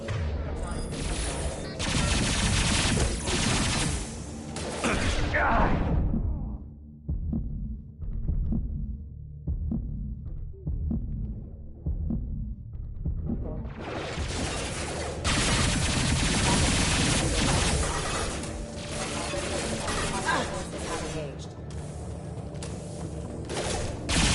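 Heavy gunfire in Mass Effect 2 rattles as dense repeated shots, thinning to scattered pops in the middle before the barrage swells again, loud and near.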